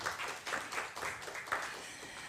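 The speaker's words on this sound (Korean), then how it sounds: "다시 한번 박수 부탁드리겠습니다." An audience at a Korean government briefing on the Green Smart Future School project claps in a steady round of applause. The clapping is faint and distant and fills the moment on its own.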